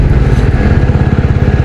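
A TVS Ronin 225 motorcycle engine accelerating, a loud close-up throbbing exhaust beat that pulses rapidly and evenly throughout, heard alone.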